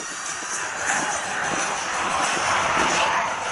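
A Diamond aerobatic aircraft at an air show over Stewart International Airport accelerates in a descent, its engine a steady, fairly distant drone with a faint rising swell and outdoor crowd ambience.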